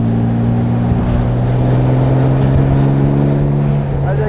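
A 1977 Jaguar SS 100 Suffolk replica with a 4.3-litre six-cylinder engine pulls hard while driving, a loud, steady engine drone with wind noise filling the whole stretch.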